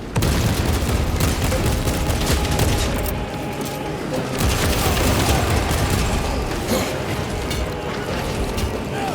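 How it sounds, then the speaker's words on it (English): In Warhammer 40,000: Space Marine 2, a frag grenade is thrown and goes off amid dense, continuous battle noise, with rattling gunfire and booming blasts that stay loud and busy throughout. "Throwing frag grenade."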